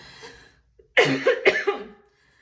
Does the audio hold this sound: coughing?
yes